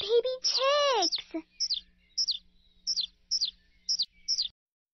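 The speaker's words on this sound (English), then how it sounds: "We have spotted this bird's hatchlings." Baby bird hatchlings in the Elinor Wonders Why video game give a cluster of quick high chirps, then a steady series of short tweets repeating about every half second, clear and close.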